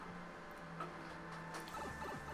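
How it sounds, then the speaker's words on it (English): A printer running in a nearby room, producing a faint, steady mechanical whir with tonal hum and soft clicking movements throughout, quiet and continuous with no talk. "That's Millen's printer."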